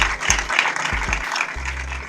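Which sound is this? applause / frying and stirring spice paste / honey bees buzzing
applause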